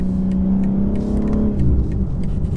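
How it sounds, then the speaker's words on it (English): A 2023 BMW M4 Competition xDrive accelerates hard under a gear change, its engine note rising and then dropping with a short raspy crackle on the upshift, loud and heard from inside the car. "you get a lovely rasp on the upshift"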